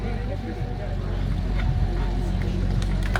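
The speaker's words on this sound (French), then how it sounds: "C'est le plus gros bruit des moteurs américains, c'est le GMC 6B" A GMC six-cylinder military truck engine rumbles steadily at close range during a military parade, a deep continuous roar with faint crowd noise and brief voices mixed in.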